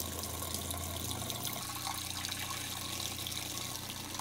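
Cold water running steadily from a faucet in a Little Guy Max camper trailer being winterized, a continuous close hiss and rush with a shift in tone partway through.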